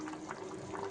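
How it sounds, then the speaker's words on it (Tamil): A pot of potato and anchovy dry fish curry bubbles on the stove, giving a steady, low, soft simmering hiss and burble close by, with no one speaking. "குழம்பு நல்லா கொதிச்சிருச்சு"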